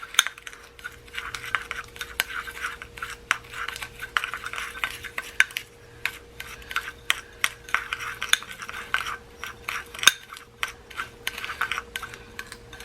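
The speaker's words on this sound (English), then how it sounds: "I'm going to use a knife and I'm going to mix this up." A knife mixes brown sugar lip scrub in a small container, with quick, irregular clinks and scrapes of metal against the dish, close and fairly quiet, continuing throughout.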